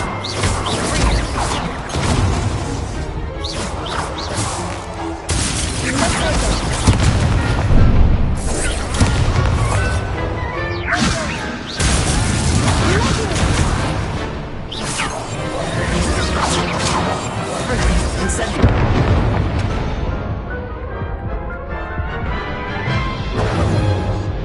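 Fire spell blasts from a Hogwarts Legacy duel come as repeated crashing booms and whooshes over a dense, continuous game soundtrack, loud throughout with a few brief voice fragments.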